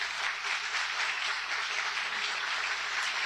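A church congregation applauds loudly during a sermon, producing a dense, continuous wash of clapping that sounds somewhat distant and even throughout.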